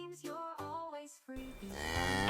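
A cow moos repeatedly in a farm animal sounds lesson for toddlers, several long, loud lowing calls in a row with no talking.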